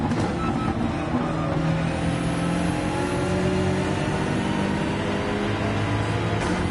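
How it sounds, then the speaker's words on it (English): A race car engine in the racing video game Gran Turismo 7 drones and revs steadily, its pitch shifting slightly as it accelerates, with constant road rumble and no voices. "Little engine sound as well to the right, knowing that there's a car there."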